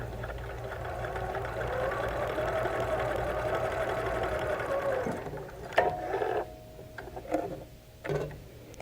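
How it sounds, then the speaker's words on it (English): A sewing machine stitches quilt pieces together, a steady close mechanical whir and ticking for about five seconds, then stops, followed by a few faint handling clicks and rustles. "And I'm going to sew with this piece on the top."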